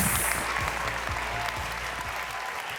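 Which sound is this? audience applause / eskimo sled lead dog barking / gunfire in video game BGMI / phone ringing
audience applause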